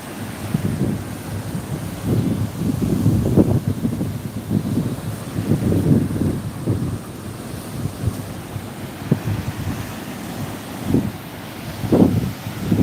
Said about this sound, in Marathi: बघा हा समुद्र अगदी आपण जवळ आलेलो आहोत समुद्राच्या